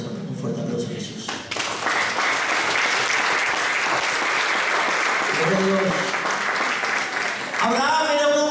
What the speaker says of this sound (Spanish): ¿Cuánto pueden dar un fuerte aplauso a Jesús?